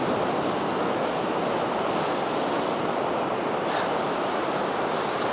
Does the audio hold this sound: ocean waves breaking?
yes